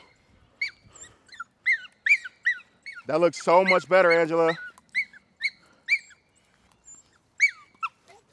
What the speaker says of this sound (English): now I got the yelling dog now